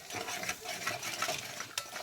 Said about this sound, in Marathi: चटणी टाकून तेलामध्ये हलवून घ्यायचं आहे त्याला फोडणी व्यवस्थित घ्यायची आहे